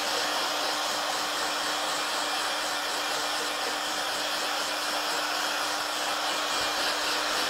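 A hair dryer blows steadily and loudly without pause, a constant broadband whoosh with a steady motor hum underneath and no voices.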